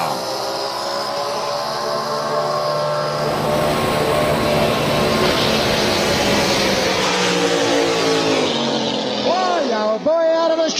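Racing powerboats with outboard engines at a 200 km/h event in Dargle, a loud sustained roar of many engines with shifting tonal whine, building and rising in pitch, a commentator talking over it throughout.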